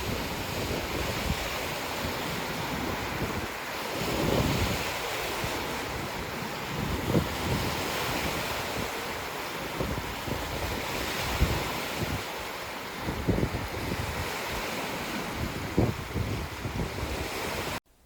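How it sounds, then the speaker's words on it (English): Brisk waves wash steadily against the Lake Superior shore under a gusting wind, a continuous rushing surf with wind buffeting the microphone and no voices. "the waves were pretty brisk again"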